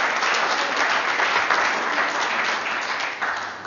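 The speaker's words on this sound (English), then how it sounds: "a big round of applause." Sustained round of applause from a room of attendees at a British Mandate 100 parliamentary event, dense and even clapping that holds steady for several seconds before easing slightly.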